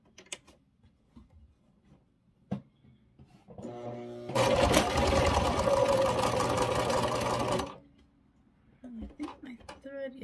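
A domestic sewing machine runs in one steady burst of about three and a half seconds as it sews a straight seam through fabric. Scattered handling clicks and soft movement come before and after it.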